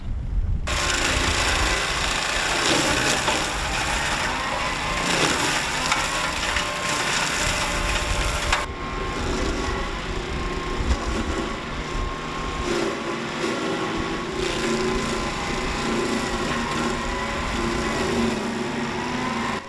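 A belt-driven brush mulcher rotor tearing through brush: a loud, continuous engine roar mixed with dense grinding and crushing of wood, unbroken for the whole stretch, with a shift in tone partway through.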